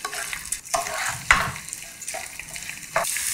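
Rice being toasted and stirred in a hot pan, with bursts of sizzling and scraping strokes from a spoon in an irregular rhythm, close and fairly loud, no talking.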